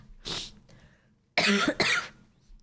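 A harsh cough bursts out, then after a pause two more rough coughs follow in quick succession, close and loud.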